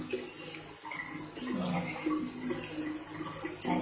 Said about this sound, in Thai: เราจะมาเริ่มทำการล้างหน้ากันนะคะ